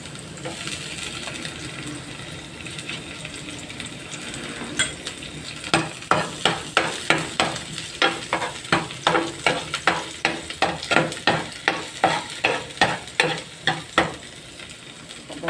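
Ingredients for sarsiadong isda, a Filipino fish dish with tomato, sizzle in a hot pan, then a rapid run of sharp metallic scraping taps as they are stirred and tossed, loud and close.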